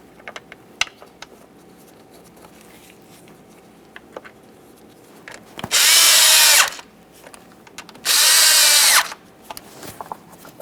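A power tool drives two 7mm bolts into the valve cover of a 1998-2011 Ford Ranger 2.3L four-cylinder, two loud whirring bursts of about a second each, with light clicks and handling noises in between.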